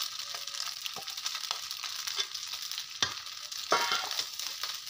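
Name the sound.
rice frying in ghee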